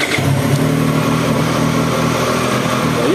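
A 2024 Triumph Street Triple 765 R motorcycle engine, in break-in mode, running steadily at a fairly high idle, close and continuous throughout.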